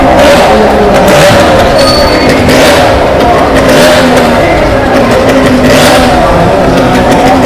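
A motorcycle in a stunt show at the Chhapar fair in Punjab roars loudly and continuously as it revs and rides upward, a near, sustained engine drone with surging swells.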